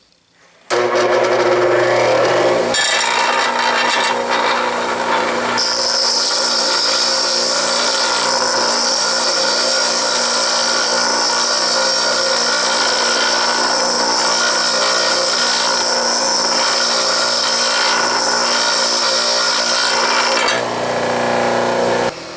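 A bench grinder grinds a high-speed steel lathe tool bit, a loud continuous rough grinding hiss over the motor hum that runs steadily for about twenty seconds with slight pulsing as the bit is pressed and moved.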